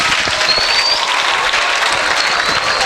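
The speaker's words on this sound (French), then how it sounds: "Applaudissez pour Jésus." A church congregation applauds together in a steady, dense wash of clapping that fills the space evenly from start to finish, loud and close with no voices rising above it.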